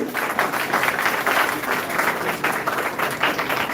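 At a college event in Lucknow, an audience applauds to welcome the chief guest, a retired IAS officer. The clapping is steady, dense and fairly close, continuing without pause throughout.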